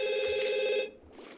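Electronic telephone ring from The Sims 2, a single clear tonal trill lasting under a second, then quiet.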